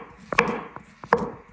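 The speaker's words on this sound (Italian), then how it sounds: "tolgo la buccia e taglio la banana a fettine" Knife slicing a peeled ripe banana into thin rounds on a cutting board, a few close, crisp cutting taps in an uneven rhythm with a soft thud under each.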